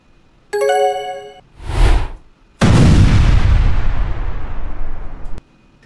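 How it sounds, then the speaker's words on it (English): Laser gun weapon fire in the Roblox video game, with a chiming ding, a whooshing blast and then a loud sustained booming burst that rumbles and fades, heard alone. "In this case, we have a laser gun that kills other players."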